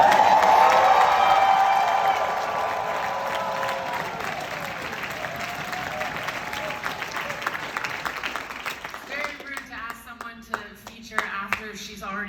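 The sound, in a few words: audience applauding and cheering for poets at a poetry slam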